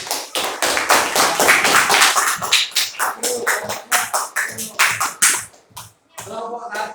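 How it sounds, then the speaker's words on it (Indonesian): Classroom applause from a group of schoolchildren, a run of rapid overlapping claps that fades and stops before a few voices speak near the end. "Oke, dah. Tepuk tangan."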